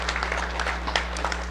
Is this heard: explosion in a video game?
no